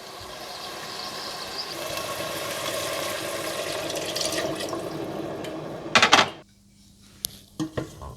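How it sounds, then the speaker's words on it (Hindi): Water poured into a pot of rice for peas pulao, a steady splashing rush for several seconds, then a few sharp metallic clanks of the pot and utensils and near silence. "इसमें चावलों के हिसाब से पानी डाल दें"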